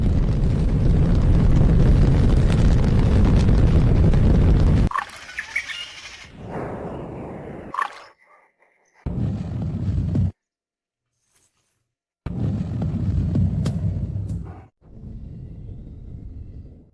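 A god-slaying spear launches and explodes in an animated drama. A heavy roaring rush lasts about five seconds, then thins into quieter, abruptly cut bursts broken by silences, and a second forceful blast swells near the end.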